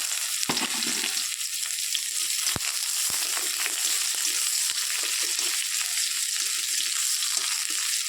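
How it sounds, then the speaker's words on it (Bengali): Chopped garlic and onion with fenugreek seeds frying steadily in hot oil, a continuous close sizzle with a few sharp crackles and occasional stirring scrapes. "তারপর দিয়ে দেবো কেটে রাখা রসুন আর পেঁয়াজটা দিয়ে দেবো মেথিটা হয়ে গেছে দিয়ে রসুন পেঁয়াজটা"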